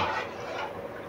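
A spoon stirs sambar powder into water in a pot, giving a brief scraping, swishing sound, close and fairly loud, with no voices.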